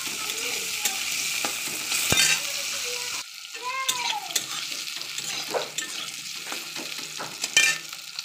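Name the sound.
eggplant frying in oil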